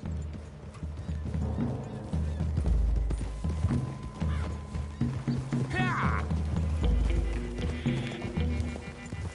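Horses' hooves clip-clop in Red Dead Redemption 2 amid a rural game scene, with a whinny and a shout, steady hoofbeats running under ongoing talk.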